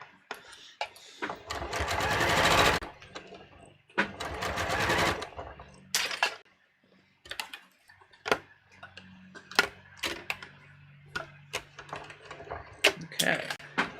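A sewing machine running gathering stitches in short bursts, with two longer fast whirring runs near the start and then quicker stops and starts, clicks and ticks between them. A quiet hum plays under faint talk.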